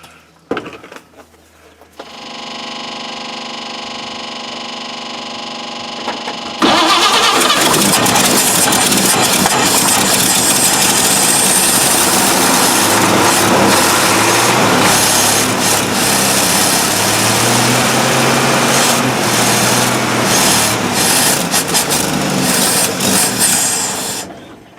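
A 1950 Chevy engine cranks briefly, then catches and runs steadily for about eighteen seconds, loud and close, with a fuel pump whirring and some rough, uneven idle beneath.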